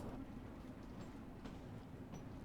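A London Underground Bakerloo Line train in the game Train Sim World 2 creeps along at about 10 mph, making a low, steady rumble with faint squeaks and clicks over it, quiet and without talk.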